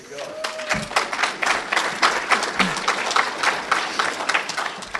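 An audience breaks into sustained applause, many hands clapping loudly and steadily at close range, with voices mixed in beneath the clapping.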